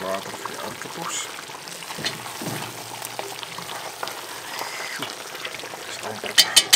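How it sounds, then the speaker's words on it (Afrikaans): Water being poured into a pot of potatoes beside an outdoor fire, a steady splashing pour with light sizzling, heard up close with faint background activity. "Wordt er een beetje water voor je aardappels."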